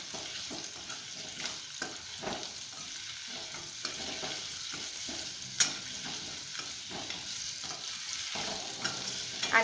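Potatoes sauté in oil in a pan for dum aloo, giving a soft, continuous sizzle broken by repeated scraping and clinking as they are stirred, fairly quiet and close with no talking.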